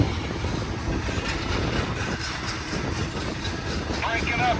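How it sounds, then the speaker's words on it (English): A long BNSF intermodal Z freight train led by five locomotives rumbles past at Cajon Summit, a steady mid-distance roar of wheels and engines with faint squeals near the end, under a constant hiss. "Five locomotives, got a nice Z train here."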